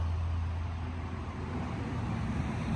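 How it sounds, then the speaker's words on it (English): A loud car goes by on a road, giving a steady, heavy low rumble that holds for the whole stretch with no voices. "That car loud for no reason."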